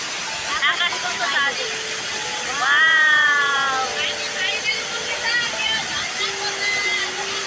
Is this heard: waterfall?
yes